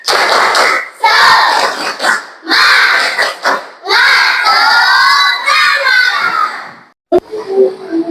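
A class of children shouting a rhythmic clapping chant together, loud and close, with bursts of voices and a clap-like hit near the end.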